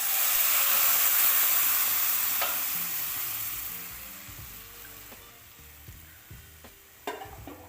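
Boiled milk, a litre of it, poured into vermicelli browned in ghee, giving a loud steady sizzle and hiss that gradually fades as the liquid settles, with faint stirring clinks near the end.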